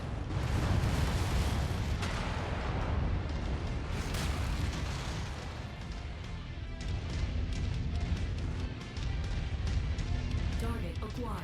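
Heavy artillery fire support pounds a battlefield in MechWarrior 5: Mercenaries, with a dense, continuous rumble of booms and blasts rolling on for several seconds, loud and close.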